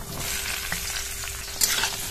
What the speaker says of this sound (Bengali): মাছ ভাজা তেলের মধ্যেই ঝিঙেগুলো দিয়ে আগে ভেজে নেব।